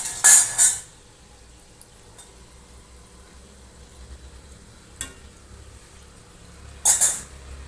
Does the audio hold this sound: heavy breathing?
no